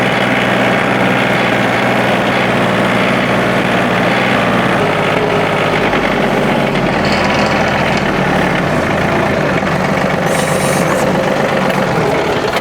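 Compact tractor engine, Kubota LX3520 or John Deere 2032R, runs loud and steady in low gear, a constant close diesel drone with a faint knock throughout.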